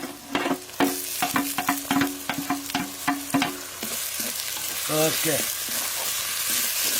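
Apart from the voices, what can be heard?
tomatoes frying with ginger masala in a pan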